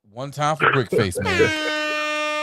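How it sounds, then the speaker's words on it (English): Someone speaks briefly, then a loud sustained air horn blast rings out and holds steady until the end. "Hit the air horn."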